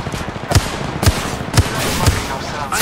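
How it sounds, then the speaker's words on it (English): Gunfire sounds out in a video game as the player's character takes fire: sharp shots repeat at an even rhythm about every half second over a continuous busy background. "I am taking fire, friends."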